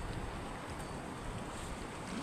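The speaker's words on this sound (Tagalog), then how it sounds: "napakalakas yung alon dito sa Turdao" Strong sea waves roll in at the shore of Turdao, a dense, close roar of surf with wind buffeting the microphone throughout, no voices heard.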